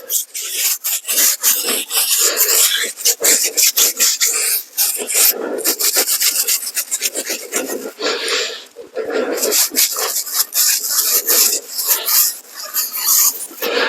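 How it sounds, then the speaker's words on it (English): A brush scrubs a car tyre coated in Armor All wheel and tyre cleaner, giving rapid, loud, close rasping strokes in an uneven back-and-forth rhythm, with brief pauses between bursts. "I'm going to give it a nice good scrub."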